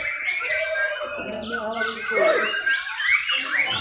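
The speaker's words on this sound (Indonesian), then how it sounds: "ini merupakan kelas tertinggi dari burung kicau mania hari ini" Several songbirds chirp and squawk in busy, overlapping calls at a songbird singing contest, with rising and falling whistled notes over a steady background murmur.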